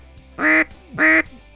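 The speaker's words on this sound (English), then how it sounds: "Well, according to Charlie, if it quacks like a duck, then it must be from Sure Shot Game Calls." Two sharp, close quacks blown on a Sure Shot Game Calls duck call from Texas, with a short pause between them and nothing else around.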